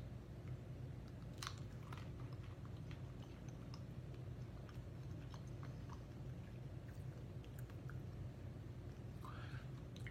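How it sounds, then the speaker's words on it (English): Crunching bites of crisped Atkins flour chips being chewed, repeated crisp crunches close up over a steady background hum, with no talking. "Last one is the Atkins flour chips."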